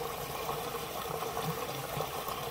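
Water steadily trickles and gushes through the plumbing of an aquaponic system linking two floating raft grow beds to a sump tank, a continuous close flowing sound with no talk.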